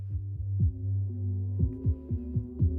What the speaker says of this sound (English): low-pass filter, the lows are passing through, the highs are cut off.